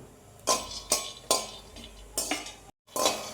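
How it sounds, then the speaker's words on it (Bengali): Peanuts being fried and stirred in a pan at home, with a run of sharp scraping strokes and clinks of a spatula against the metal, roughly every half second, close and fairly loud, and no talking. "কয়েকটা বাদাম নিয়েছি এই কয়টা আমি ভেজে নিব"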